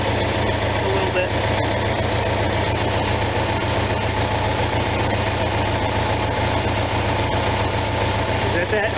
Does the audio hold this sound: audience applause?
no